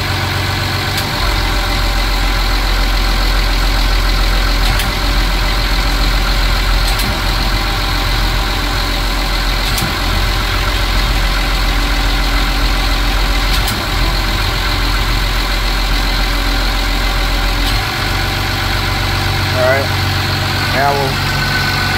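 A trawler's engine idles at about 927 RPM while a Dickson hydraulic stern thruster runs, giving a steady low rumble and hum throughout with a faint whine near the end, under occasional talk and wind outdoors.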